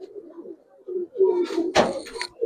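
Pakistani high-flyer pigeons, silver Giribaz, coo softly and repeatedly at close range, with a louder flutter or knock near the end.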